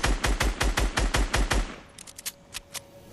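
Rapid automatic gunfire in Fortnite, a loud, close burst of about ten evenly spaced shots over a second and a half, followed by a few scattered fainter shots farther off.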